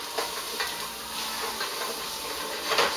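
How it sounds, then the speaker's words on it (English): Steady, crackling sizzle of garlic and onions frying in a hot pan for spicy beef vegetable soup, continuous and fairly close, with no talking. "You might be able to hear the um, the garlic start to sizzle."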